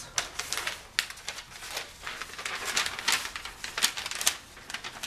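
Paper is folded and creased to form darts while drafting a skirt pattern, producing close, crisp crinkles and sharp rustling snaps that come in quick, irregular bursts.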